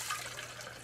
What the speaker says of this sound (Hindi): पानी पानी भी डाल देते हैं।